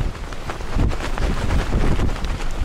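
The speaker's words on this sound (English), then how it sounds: "Getting the wind." Wind gusts on a hillside in Glen Nevis, Scotland, buffeting the microphone with a continuous low rumble and swelling blasts, close and fairly loud, with no talk.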